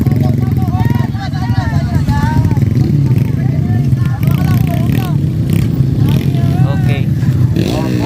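Enduro trail motorcycles race past at an outdoor trail challenge in Barangay San Pascual, Quirino, their engines revving and whining up and down continuously while a crowd and an announcer talk loudly over them.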